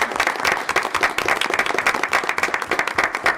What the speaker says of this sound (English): let's give them a big round of applause for everything that they have contributed for our Teachers of the Year